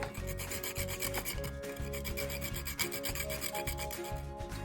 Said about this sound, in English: We'll grind now half of the nutmeg.